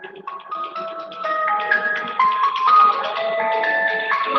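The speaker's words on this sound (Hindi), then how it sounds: "जरा फोन आ रहा है इमरजेंसी में" A phone rings with an incoming call, a melodic electronic ringtone of rising and falling tones playing loud and close, with no talk over it.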